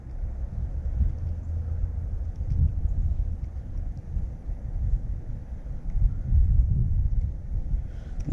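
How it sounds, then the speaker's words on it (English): Wind gusts outdoors beside a river while fishing, a steady low rumble of buffeting against the microphone that swells and eases over the full stretch, with no talking. "The wind decided to blow."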